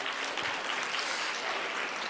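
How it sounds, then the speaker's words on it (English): A dense, steady burst of applause from a youth audience at a TEDx event, a bright continuous patter of many hands clapping without any talk. "Let's give them a round of applause."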